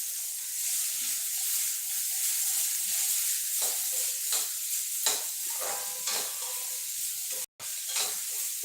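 Green peas fry in a pan of spice masala for kachori filling, giving a steady soft sizzle broken by scraping stirring strokes, with one short dropout near the end.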